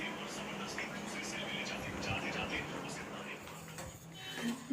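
Pots and utensils clink and scrape while Maggi noodles are cooked at home, light irregular metallic taps and rattles running steadily through the clip amid faint room noise.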